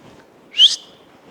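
A person whistling in imitation of someone whistling at a baseball ground: one short, soft whistle rising and fading in about a quarter second, alone over a quiet background.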